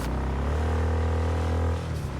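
A steady motorcycle engine drone in the video game Cyberpunk 2077: Phantom Liberty, with a low rumble, holding an even pitch before easing off near the end; no talking.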